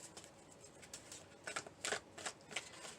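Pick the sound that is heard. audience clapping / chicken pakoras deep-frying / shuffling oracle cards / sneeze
shuffling oracle cards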